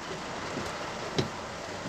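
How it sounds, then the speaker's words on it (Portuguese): Heavy rain falls across the city centre of Caruaru, a steady, dense hiss of water on streets and surfaces with one brief louder splash partway through. "Chovendo bastante hoje, ó."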